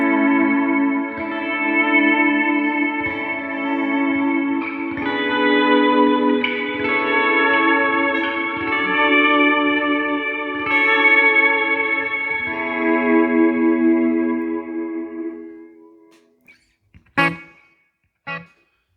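Electric guitar swells through effects pedals, an expression pedal fading out each note's attack into a sustained ambient wash with echo and reverb, layered chords blending continuously before dying away, followed by a few brief clicks.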